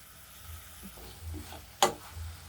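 Tomatoes sauté in oil in a covered pan over a medium flame, giving a soft, low sizzle with a few light clinks and one sharp knock of a lid or spoon.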